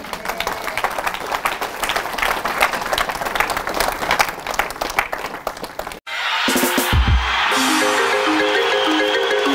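A church congregation applauds in dense, loud, sustained clapping for about six seconds, then the applause cuts off abruptly into a different, steadier sound.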